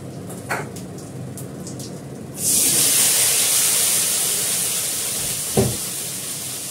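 Pointed gourd hits hot oil tempered with cumin and asafoetida, bursting into a loud, steady hiss that holds for several seconds, with a couple of faint knocks from the pan.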